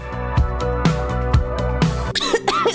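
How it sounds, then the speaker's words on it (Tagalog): Four deep, harsh coughs come at a steady rhythm over background music, followed by a short burst of higher vocal sounds. "Ubo, premang nakabara,"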